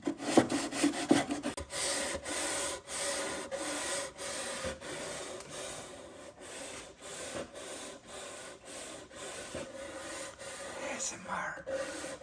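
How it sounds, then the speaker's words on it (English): Cedar fence picket wood is sanded by hand in close, soft rhythmic rubbing strokes, a steady gritty rasp repeating over about twelve seconds, with faint whispery sounds and no clear talk. "ASMR sanding with Mrs. DIY and Elpida."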